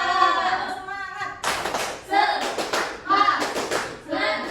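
Schoolchildren in an elementary classroom perform a rhythmic spirit clap in bursts of quick, sharp claps, alternating with chanted voices between the clapping groups.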